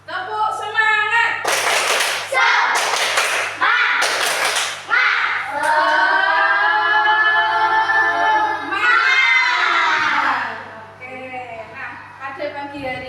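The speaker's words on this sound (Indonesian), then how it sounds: "Ayo kita lakukan tepuk semangat bersama-sama" A class of children performs the 'tepuk semangat' clapping chant, loud sharp bursts of hand claps alternating with voices chanting together in unison, close and energetic, fading near the end.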